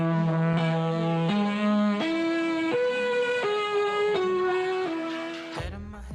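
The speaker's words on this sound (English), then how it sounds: "This motif is a series of 8 synthesizer notes and is the first thing we hear in the song." An eight-note synthesizer motif opens the song. It plays as a stepwise rising-then-falling line of sustained, bright tones, evenly paced and alone, ending with a brief lower sound.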